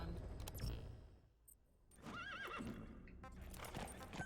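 A horse whinnies in a rising, wavering call amid sounds from the video game Death Stranding, with hoofbeats and other effects around it.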